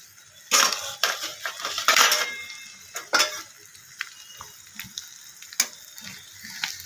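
A fish Mughlai paratha is flipped over as it fries in a pan. Sharp spatula scrapes and clanks come in a cluster early on, followed by sparser knocks over a low, quiet sizzle.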